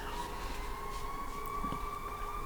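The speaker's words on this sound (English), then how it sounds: "so many sirens" A steady, wailing siren tone holds throughout, distant and continuous over a low background rumble.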